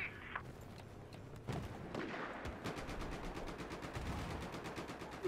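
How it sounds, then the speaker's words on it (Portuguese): Rapid automatic gunfire rattles in Battlefield 4 gameplay, dense bursts of shots with sharp individual cracks across a noisy battlefield. "Os caras estão atirando"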